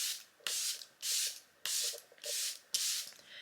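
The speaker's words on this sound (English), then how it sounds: "The Airbrush Flawless Setting Spray from Charlotte Tilbury." Charlotte Tilbury Airbrush Flawless Setting Spray misted onto a face, six short pump bursts in a steady rhythm, each a loud close hiss with a small click at the start and brief quiet gaps between.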